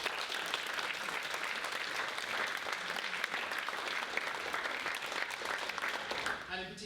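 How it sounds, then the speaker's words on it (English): A round of applause from an audience at a live-streamed event, sustained dense clapping at moderate distance lasting several seconds before tapering off at the end. "So if you give them a round of applause."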